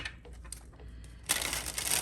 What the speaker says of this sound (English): I'm going to shuffle these cards first